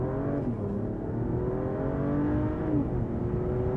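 A 2024 Mercedes-Benz E450 surges off the line from a brake-boosted launch, its engine note climbing steadily in pitch through the gears, a continuous loud whirring drone heard from inside the cabin with no talking.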